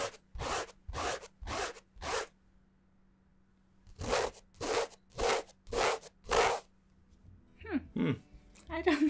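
Offshoot broken twill selvedge denim is rubbed in two sets of short, sharp scratchy strokes, first four and then five, close and fairly loud, with a little handling noise at the end.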